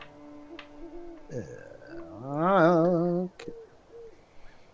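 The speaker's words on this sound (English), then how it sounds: "you hear some owl hooting in the distance" An owl hoots in a long, wavering call, moderately loud with a quieter lead-in, while someone says a single word during a tabletop role-playing game session.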